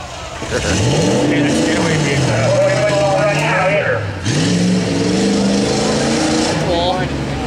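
A 1986 Chevy Suburban engine revs loud and near at a tuff truck event, roaring and rising and falling in pitch, with a brief dip, while voices talk over it.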